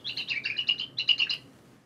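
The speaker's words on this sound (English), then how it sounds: "Tim Holly, came out with a study showing that mice produce these ultrasonic, what he calls songs, that sound like this" Ultrasonic song of a male mouse pitched down to human hearing, heard as a quick series of high chirping, bird-like syllables in two short bursts, close and fairly faint against a quiet background.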